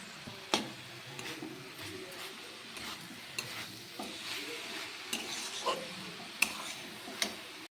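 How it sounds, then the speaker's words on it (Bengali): Cabbage ghonto with added sugar stirred in a pan, a quiet soft sizzle with scattered scrapes and clinks of a utensil against the pan, heard close up. "চিনি অ্যাড করার পর একটু ভালো করে নেড়ে চেড়ে নামিয়ে নেবো"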